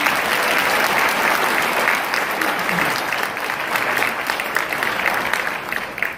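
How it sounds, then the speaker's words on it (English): A large audience at an annual awards dinner applauds students, a dense, steady wash of many hands clapping that holds strong throughout and eases only slightly toward the end. "So can we please give all our students another round of applause?"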